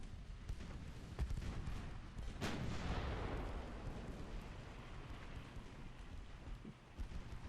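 Warship guns fire in the naval game Ultimate Admiral: Dreadnoughts, faint distant booms with a heavier blast in the middle, then a long rumbling roll that fades under a steady wash of background noise.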